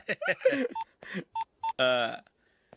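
A cell phone keypad beeps as a number is dialed, with three short, evenly spaced tones sounding between bursts of nearby speech.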